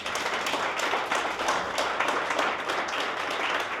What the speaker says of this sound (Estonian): Teeme siia aplausi.